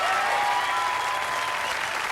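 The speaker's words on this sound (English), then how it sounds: "let's give him a round of applause" Audience applause at a reunion gathering, a steady dense wash of many hands clapping throughout, loud and continuous with no talk over it.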